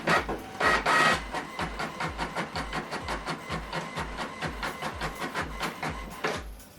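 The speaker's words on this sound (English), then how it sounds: "So we are printing double-sided, black and white, or monochrome if you like." A printer works through a double-sided black-and-white page with a quick, regular mechanical clatter, a louder whir at the start and end, close by.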